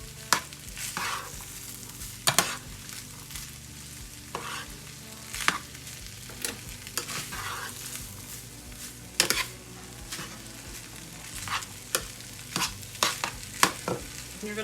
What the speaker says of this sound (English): And now, I'm just stirring everything together.